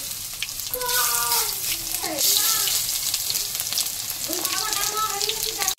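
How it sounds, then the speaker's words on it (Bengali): Thankuni leaf fritters lowered one by one into hot oil in a pan on a gas stove, bubbling and sizzling steadily up close while someone talks over the frying. "এখন আমি বড়াগুলো দিয়ে দেবো এক এক করে।"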